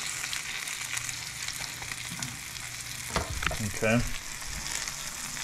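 A cheesy egg pancake, folded like an omelet, frying steadily in a pan with a continuous close sizzle, a brief utensil scrape near the end and a short spoken word.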